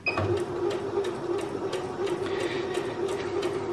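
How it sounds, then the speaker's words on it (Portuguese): A Singer 6805 sewing machine stitches fabric with a steady, fast mechanical whir and rhythmic needle clatter, close and continuous throughout with no talk. "Nesse botão de baixo ela faz o retrocesso, que costura para trás"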